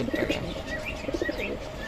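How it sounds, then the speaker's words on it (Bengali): Several pigeons coo close by in repeated rounded, throaty bursts, with two clear clusters of calls over a busy background of chirps. "কবুতর খাসায় আটকানো আটকানো এবং অনেক সুন্দর"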